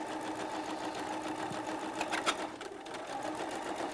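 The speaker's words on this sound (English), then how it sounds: "So we are just sewing these 2 blocks together like we just did with the other 2." Two quilt blocks being sewn together on a sewing machine, a continuous close, even mechanical hum throughout with a brief bump in the middle, no voices.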